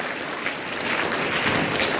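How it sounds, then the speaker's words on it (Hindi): An audience at a Gita shloka recitation competition claps in a dense, steady round of applause, loud and continuous throughout. "जोर से ताली बजाइए."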